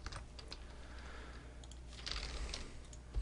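Computer keyboard arrow keys tapped repeatedly during work in Photoshop and Illustrator, a steady run of light, close clicks over a quiet room hum with no talking.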